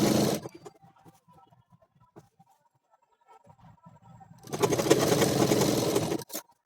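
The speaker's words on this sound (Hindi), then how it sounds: "तो हमें एक सीधी सिलाई लगानी है इसके दोनों।" An electric sewing machine runs a straight seam on ladies' pant fabric, opening with a short burst, then a lull of faint handling clicks, then a sustained loud whirring run of about two seconds that stops abruptly.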